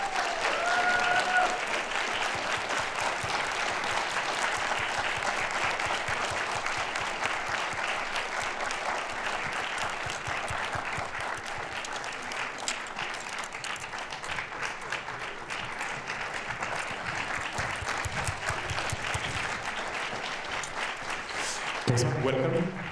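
Sustained, dense audience applause welcomes a film director onto the stage at a premiere at the Cinémathèque suisse. The clapping is steady and loud throughout, with a brief voice near the start and at the end.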